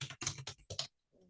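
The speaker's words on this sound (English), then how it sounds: "So we can just start typing." Quick bursts of typing on a computer keyboard, four or five close clustered key clatters in rapid rhythm followed by a near-silent pause, heard alone without speech.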